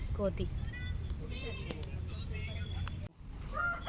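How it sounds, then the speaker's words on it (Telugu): Chickens cluck and a rooster crows nearby while a person talks over them, with some outdoor background noise. "కోళ్ళు ఉన్నాయి చూడండి"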